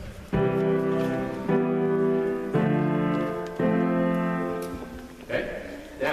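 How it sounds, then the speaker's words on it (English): Four sustained chords played in turn as the opening of a song, each struck cleanly and left to ring for about a second before the next, with no talking over them. "so we have our 4 chords to start our song, and they sound like this."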